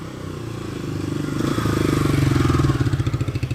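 A 1971 Honda SL350 350 twin motorcycle engine runs close by, a steady mechanical thrum that builds in loudness and settles into a pulsing idle with firing beats near the end.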